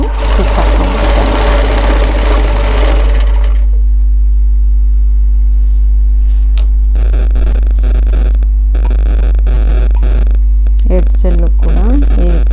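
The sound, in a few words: sewing machine stitching a chudidar top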